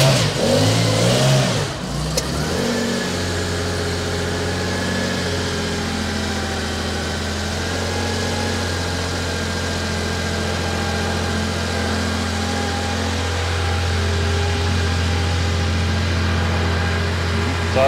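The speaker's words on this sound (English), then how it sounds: "So just idle it up a bit with the hand throttle for about 3 or 4 minutes, and then it idles happily." A carburetted Porsche 911 Carrera 3.0 engine revs briefly, then settles into a steady, loud, close-up idle held up on the hand throttle, with a low rumble throughout.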